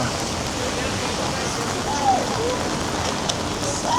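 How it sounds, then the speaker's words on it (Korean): Heavy rain pouring down outdoors near a concert venue, a dense, continuous hiss of drops hitting surfaces, with faint voices briefly under the downpour. "비가 너무 미친 듯이 온다"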